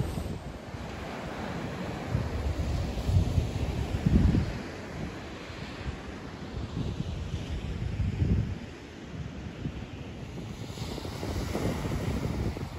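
Waves surge and crash in slow swells beneath a steady rush of wind buffeting the microphone, loud and close, with no voices, at Hamsilos Bay on the Black Sea coast of Sinop, Turkey.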